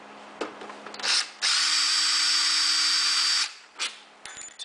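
A cordless drill whirs in short bursts, then holds one steady, loud run for about two seconds before stopping, with brief blips of the motor before and after, close by and without speech.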